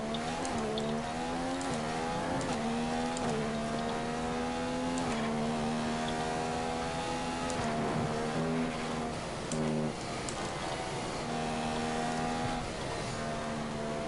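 A high-pitched race car engine in a racing video game drones continuously, its pitch climbing and dropping as the car shifts gears, loud and close with no talking.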